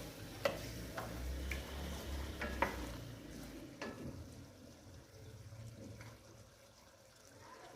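Tomatoes that have shed their skins fry gently in a pan for a Peshawari charsi chicken karahi, a faint, quiet sizzle broken by scattered light spoon clicks and scrapes.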